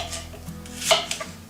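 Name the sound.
knife cutting fresh apple slices on a board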